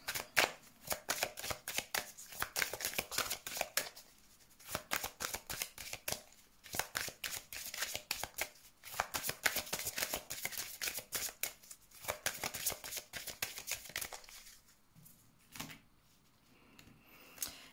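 Tarot cards are shuffled close up for a reading, with bursts of quick riffling and crisp slaps that repeat in rhythmic runs. Short pauses fall between the runs and no voice is heard.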